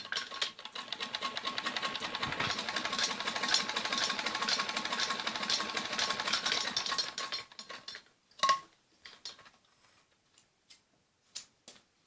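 Sewing machine stitching piping around a kameez back neck, a fast steady mechanical chatter for about seven seconds that then slows and stops, followed by scattered clicks and handling taps of the machine and fabric.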